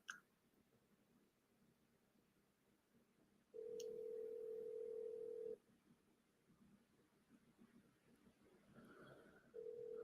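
Ringback tone of an outgoing telephone call, a steady mid-pitched hum playing for about two seconds, a long pause with faint clicks, then the ring starting again, clear and fairly quiet.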